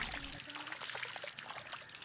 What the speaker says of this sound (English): Add cow dung slurry to increase the available nutrients so the Azolla can grow quickly.